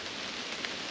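Rain falls steadily in the woods on a wet day of harvesting bow wood, a soft, even hiss of drops with one small splash standing out. It is faint and brief, with no voices.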